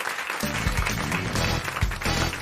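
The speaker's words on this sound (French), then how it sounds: "On vous embrasse et on vous applaudit." Studio audience clapping on a French radio comedy panel show, lively and continuous over a bed of music, fairly close.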